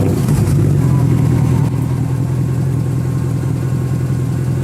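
Engine of a Mercedes C63 AMG station wagon idles with a deep, steady low rumble, loud and close, holding an even tone throughout.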